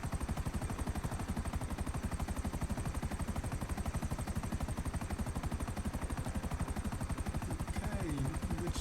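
A helicopter flies close by, its rotor chopping in a fast, even, loud pulse that holds steady and unbroken throughout, with no voices.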